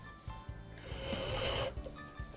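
A small metal pin from a French Japy Freres Napoleon mantel clock, held in a pin vise, gets a single rasping file stroke lasting about a second, close and clear between quieter moments.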